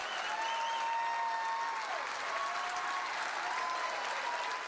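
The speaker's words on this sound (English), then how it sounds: "The crowd roared as Baggett accepted" Audience applauding and cheering at a Cirque show after an on-stage marriage proposal, a steady broad wash of clapping heard at a distance with a sustained tone running underneath.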